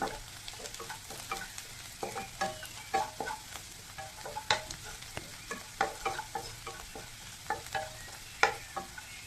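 Chopped onion and ginger fry in a pan, a steady sizzle broken by frequent short crackles and stirring scrapes, close and fairly quiet with no talking.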